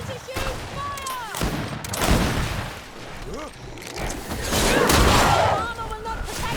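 Volleys of musket-style gunfire crack and boom in the GreedFall video game, several loud bursts spread over a few seconds, mixed with battle clamour and shouting voices.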